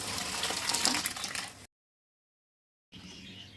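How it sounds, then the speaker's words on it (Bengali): Lentils for a vegetable dal poured into a pan: a loud, wet, splashing rush of about a second and a half, a pause of silence, then a softer continued pour. "এবার আমি ডালটা ঢেলে দেবো"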